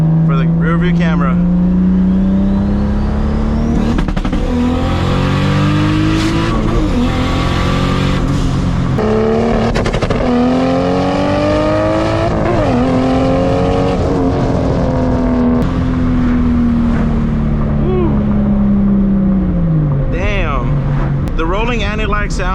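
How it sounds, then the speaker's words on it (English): A straight-piped Toyota Supra rolls on anti-lag, its loud close exhaust droning and rising in pitch with rapid crackling pops and bangs, then easing off near the end. "The rolling anti-lag sounds like 50 times better."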